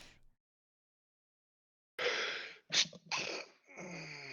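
One person sneezes after a silent pause. A sharp intake of breath leads into an explosive burst, followed by a couple of short sniffs and breaths. The sound is close and loud.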